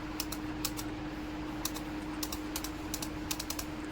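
Steady keyboard typing while entering a cash salary-paid voucher in Tally accounting software, with irregular clusters of light clicks over a constant hum and no talking.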